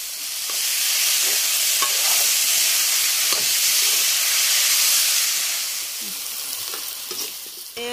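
Banana stem (kol posola) fries in oil seasoned with turmeric, giving a steady loud sizzle and hiss as it is stirred, with faint scraping clicks and the frying easing slightly toward the end.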